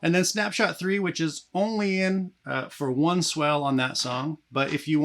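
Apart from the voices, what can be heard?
No distinct noise like a dog, phone or traffic.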